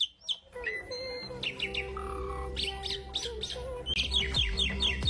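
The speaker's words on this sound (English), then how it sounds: "Pied mynah bird." A pied mynah calls with a busy run of chirps, whistles and chattering notes over a steady low background hum, close and continuous.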